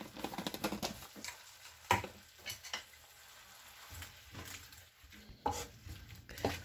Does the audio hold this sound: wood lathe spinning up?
no